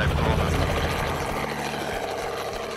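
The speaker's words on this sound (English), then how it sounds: "Southern Cape Crawford helicopter, Yankee Lima R44, becoming airborne" Steady broadband rotor and engine roar of a Robinson R44 helicopter lifting off at Cape Crawford, loud and continuous throughout with no pauses.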